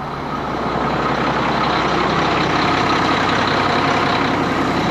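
An ERF lorry's diesel engine runs steadily at close range, a loud, even rumble that holds for the whole stretch without speech.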